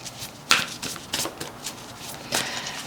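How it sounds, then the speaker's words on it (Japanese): Energy & Spirit Oracle Cards being shuffled by hand, several crisp riffles and slaps close by at an uneven pace, with no talking. "最後にちょっとオラクルカードだけ引かせてください"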